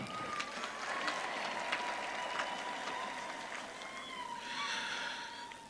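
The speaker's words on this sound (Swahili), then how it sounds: "I think tumpigie makofi" Sustained crowd applause for the newly ordained Bishop Jackson Murugara at his ordination ceremony, a dense, steady clapping that fills the whole stretch at moderate loudness with a faint thin tone running beneath it.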